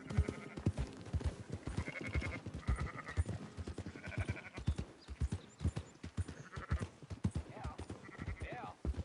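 Sheep bleat repeatedly in the Red Dead Redemption 2 video game, mixed with clip-clopping hooves and someone talking over them throughout.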